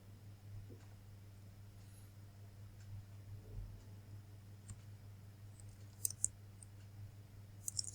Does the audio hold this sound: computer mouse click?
yes